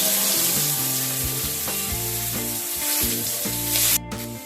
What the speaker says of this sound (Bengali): হালকা করে সোয়াবিনগুলোকে ভেজে নিতে হবে।